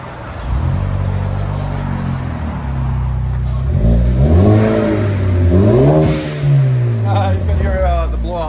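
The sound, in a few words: 2017 Ford Focus ST with MBRP cat-back exhaust revving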